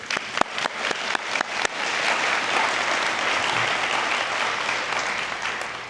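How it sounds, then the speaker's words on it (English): A few loud, distinct claps open, then a large commencement ceremony audience swells into sustained, dense applause that holds steady to the end. "I'd like you to also get a round of applause"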